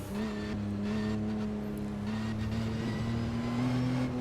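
A Porsche race car drones steadily in Automobilista 2, a continuous engine tone held close and fairly loud with slight pitch shifts, and no talking.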